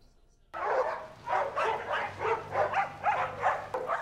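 Several dogs at a doggy daycare in São Paulo barking in a rapid, overlapping chorus after a quiet start, loud and close with yips and whimpers mixed in.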